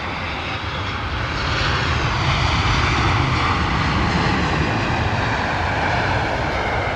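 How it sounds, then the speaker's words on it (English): A British Airways Boeing 777 with GE90 engines roars past, a broad, steady jet rumble that swells after the first second and holds loud and close, with no talk. "Another British Airways 777."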